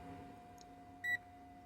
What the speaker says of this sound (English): You hear the beep? It's the same beep.